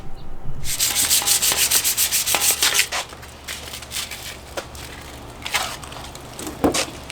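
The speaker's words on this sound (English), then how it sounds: "just a light sanding" Light hand sanding on a spare-tire hitch basket being modified for a Jeep TJ. A loud, steady run of rapid rasping strokes is followed by quieter, intermittent scrubbing passes.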